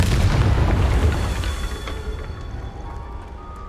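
A Confringo explosive spell blast in Hogwarts Legacy lands as a heavy, booming detonation that opens loud and rolls off into a fading rumble and crackle over a few seconds, with no talking.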